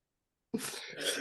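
A single close, loud sneeze bursts out suddenly after silence, a sharp breathy blast that trails off quickly.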